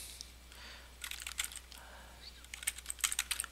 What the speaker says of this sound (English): we can type something in the notes as well